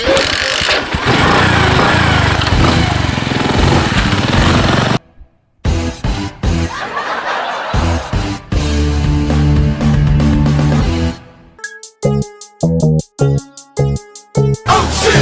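Motorcycle kick-started and running: loud close engine noise that cuts out, then sputters back with repeated revving bursts and choppy firing toward the end, no talk.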